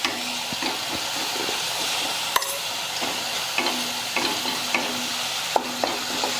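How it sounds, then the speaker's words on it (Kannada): Garlic and green chilli fry in a pan with a constant close sizzle, broken by repeated scraping clicks and knocks from a spatula stirring at an uneven pace. "ಇದು ಬೆಳ್ಳುಳ್ಳಿದು ಹಸಿಮೆಣಸಿಕಾಯಿದು ಹಸಿ ವಾಸನೆ ಹೋಗುವವರೆಗೆ ಫ್ರೈ ಮಾಡ್ಕೋಬೇಕಾಗ್ತೈತೆ"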